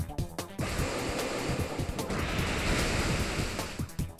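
Waterfall attack effect in Pokemon Omega Ruby/Alpha Sapphire, a loud rushing surge of water that carries on for several seconds, with a few short percussive hits at the start and end and no voices over it.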